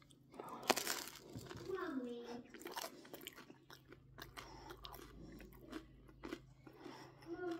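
Bites into a Buddy's Detroit-style pizza, a few crisp crunches followed by soft chewing, close and quiet, with someone talking in between.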